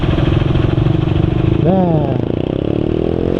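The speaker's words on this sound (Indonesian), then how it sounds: "kalau ngelawan motor yang suaranya asak-asak kayak gini" An automatic scooter engine runs with a rough, rattly idle, loud and close, with a short spoken word over it partway through.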